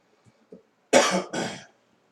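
Two harsh coughs in quick succession ring out close by after a moment of near silence.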